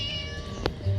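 A cat meows once, short and fairly clear, over a steady humming game soundtrack in the horror game Scary Teacher 3D; no talking.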